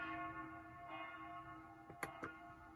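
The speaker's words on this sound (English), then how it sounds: "most of you recognize this church bell from the song" Church bell setting on a keyboard, a synthesized bell tone sustained over a steady electronic hum, with a couple of brighter struck accents near the end.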